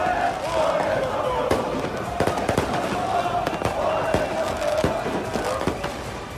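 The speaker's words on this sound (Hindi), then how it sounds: "कई उपद्रवी फैंस ने पुलिस पर सीधे आतिशबाजी और पटाखे दागे।" Fireworks and firecrackers fired at police during street riots in Paris after a PSG victory, a rapid irregular series of sharp bangs and crackles over a roaring crowd and some speech.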